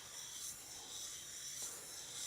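A chisel is rubbed back and forth on a sharpening stone to polish its bevel, making a faint, steady rasping scrape with soft, repeated strokes.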